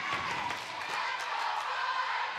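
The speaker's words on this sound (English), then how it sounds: "Listen to this crowd cheer on their Orioles." Crowd at a high school volleyball match cheering and murmuring in a gym, a steady, fairly faint wash of voices with no distinct words.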